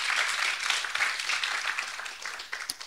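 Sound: audience applause

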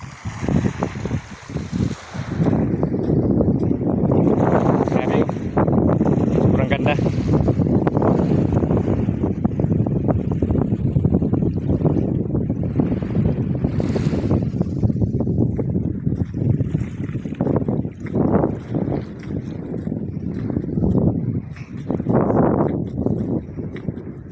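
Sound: wind

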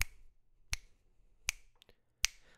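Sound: finger snapping a beat

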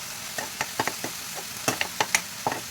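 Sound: stirring and roasting spice masala in oil

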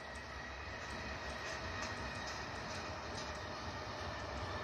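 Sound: Whoosh high-speed train passing on elevated track

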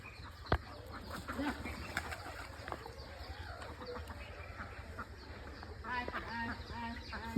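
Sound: ducks quacking

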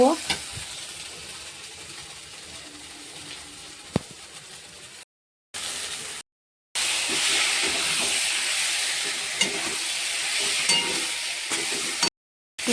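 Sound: boiled soybeans sizzling as they are stir-fried in spices

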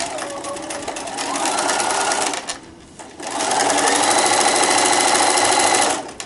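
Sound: sewing machine stitching a seam on a wine gift bag

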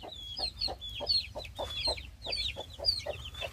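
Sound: Gold Brahma chicks clucking with mother hen

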